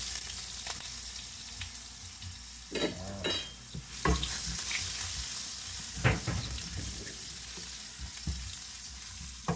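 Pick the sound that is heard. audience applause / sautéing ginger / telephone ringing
sautéing ginger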